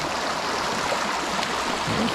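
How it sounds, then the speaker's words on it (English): A swollen creek rushes swiftly after heavy rain, a loud, steady roar of turbulent water close by, with no voices. "This creek is up."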